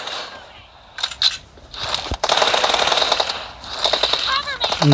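Rapid M4 rifle fire in a first-person shooter video game, a short burst followed by a long sustained automatic stream of shots, fairly loud, with a brief pause and further fire at the end.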